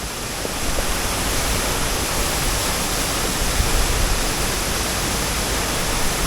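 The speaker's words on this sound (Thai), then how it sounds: "ตอนนี้ ก็มาถึงน้ำตกนะครับที่อยู่ระหว่างหมู่บ้านแม่แมะจะไปหมู่บ้านปางสาดนะครับ" The Sai Lot Buang waterfall in the forest between Mae Mae and Pang Sat villages roars as a steady, dense wash of falling water, loud and unbroken throughout.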